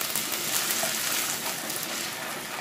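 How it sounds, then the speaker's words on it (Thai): Eggs fry in a pan with a splash of water added, giving a steady, close hiss and crackle of sizzling that holds evenly throughout with no voices. "ดาวไข่ดาวไปด้วยนะคะ เติมน้ำลงไปนิดหนึ่ง"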